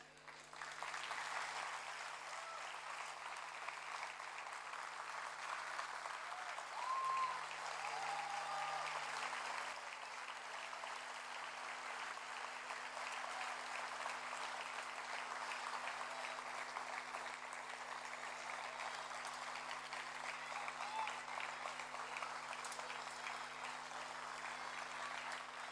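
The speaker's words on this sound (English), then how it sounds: "They definitely deserve a very big round of applause" Audience at a school junior kindergarten event applauding, a dense, sustained wash of many hands clapping that holds steady for the whole stretch, with a steady low hum underneath and no clear voices.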